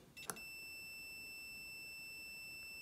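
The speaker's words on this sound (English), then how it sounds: "we can put on the remaining prongs like that, and we can hear that beep" A multimeter beeps once on a continuity test across the prongs of a Honda/Acura wiper switch, a short faint electronic tone. A steady high whine runs underneath for the rest of the stretch.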